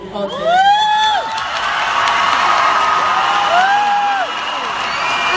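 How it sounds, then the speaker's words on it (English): A pageant audience at a Miss World Philippines 2017 question-and-answer round erupts in loud, sustained cheering with whoops, screams and applause, a dense crowd roar lasting throughout. "Alright, the crowd is going wild."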